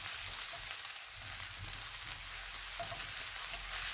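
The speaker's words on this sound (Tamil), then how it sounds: "அதையும் இதுக்குள்ள சேர்த்து பொரிச்செடுப்போம்" Small pieces of ginger and garlic frying in hot oil, a continuous soft bubbling sizzle with faint crackles, steady and close throughout.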